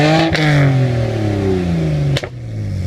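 BMW N52 straight-six exhaust on the stock system with the resonator deleted and a 135i muffler, revving in a smooth rising then slowly falling tone, loud and close, with a sharp pop or shift at each end.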